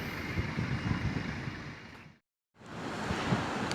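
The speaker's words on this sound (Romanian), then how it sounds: "Suflă vântul, da." Strong wind buffeting the microphone in a steady roar, cutting out briefly to silence before resuming.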